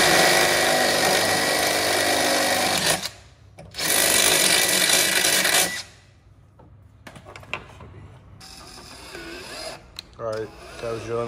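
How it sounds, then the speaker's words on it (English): A power drill whines in two loud sustained bursts while drilling holes to mount a plate on a BMW E36 M3, followed by clatter, handling noise and voices speaking nearby. "I was drilling out the holes to put this stick plate."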